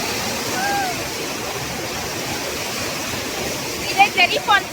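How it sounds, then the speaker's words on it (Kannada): Cherry Falls waterfall in Chikmagalur pours in a steady broadband rush of falling water, constant and fairly near, with faint voices and a few short chirps toward the end. "ಇದೇ ಚೆರಿ ಫಾಲ್ಸ್ ಚಿಕ್ಕಮಂಗ್ಳೂರು."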